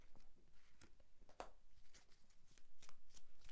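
Tarot or oracle cards shuffled by hand, a quick run of soft papery riffles and flicks with one sharper snap partway through, close and fairly quiet, with no talking.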